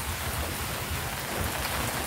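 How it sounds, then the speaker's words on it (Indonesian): Heavy rain pours on a tall aviary, a dense, loud, unbroken roar of water with a low rumble underneath, steady throughout. "Ini hujan. Kalau hujan di sini tiap hari hujan."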